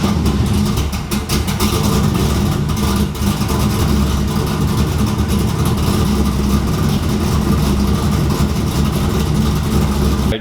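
A Pontiac Trans Am race car with a chopped exhaust, raised up in the air, runs loud and close, its raw rumbling exhaust filling the whole stretch with rough revving and no pauses.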